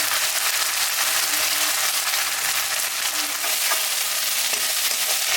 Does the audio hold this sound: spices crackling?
yes